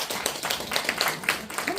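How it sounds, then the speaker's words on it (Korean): An audience claps together in a burst of applause, steady dense patter filling the room briefly at a traditional folk mask-play performance. "박수 한번 쳐주세요."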